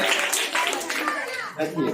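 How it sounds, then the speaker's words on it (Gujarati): Schoolchildren clapping for a classmate dressed as Rani Lakshmibai at a primary school costume event, a brisk, close patter of small hands mingled with children's chatter and an adult voice. "રાણીની લક્ષ્મીભાઈ તાળી વગાડજો એના માટે"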